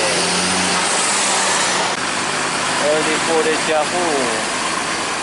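Bus engine idling and pulling away at a busy bus terminal in Pekanbaru, a steady loud mid-range rumble throughout, with a person talking over it and a brief wavering horn or voice-like tone near the end.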